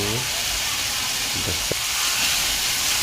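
Cha-om leaves dropped into boiling hot oil, a steady loud sizzling hiss filling the whole moment, with a brief low voice and a small clink partway through.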